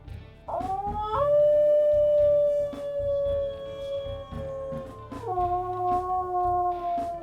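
A video game wolf's long, clear howl in WolfQuest, rising and holding a steady pitch, then dropping lower and continuing, slightly raspy, loud and close.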